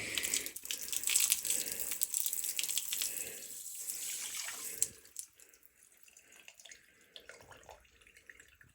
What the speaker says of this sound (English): I'm just going to pour it over here this time.